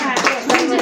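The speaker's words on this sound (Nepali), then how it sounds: "ल ताली" A few quick hand claps sound close by in a short burst, with a voice talking over them.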